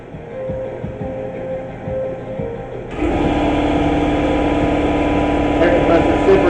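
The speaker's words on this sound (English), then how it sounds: "Air compressor's super noisy." A shop air compressor starts up partway through, its loud steady drone and mechanical hum filling the space after a quieter stretch of workshop background noise.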